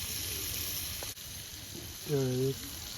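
Large pieces of pomfret fish frying in hot oil, a faint steady sizzle throughout with a short tonal sound partway through.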